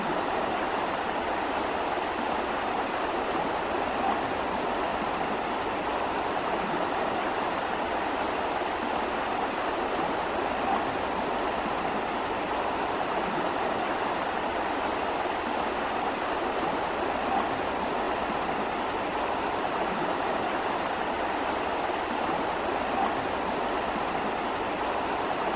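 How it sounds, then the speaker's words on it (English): The river Esva in Asturias flows beneath a hanging bridge on a hiking trail, making a steady, unbroken rushing wash of water that stays even in loudness throughout, with no voices. "Crossing the river Esva"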